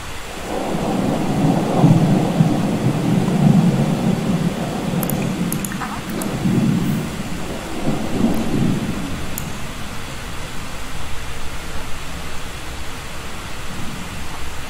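Steady rain in a Disney Snow White video game scene, a continuous broadband wash that swells louder in the first half, with low rumbling surges resembling thunder, then settles to a softer even patter.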